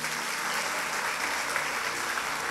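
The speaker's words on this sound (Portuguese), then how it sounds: "Você pode aplaudir a Jesus?" A church congregation at a sermon claps for Jesus in a full, even wash of applause that stays loud and unbroken from start to finish.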